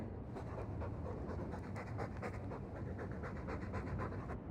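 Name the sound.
dog panting, Dragon Age II video game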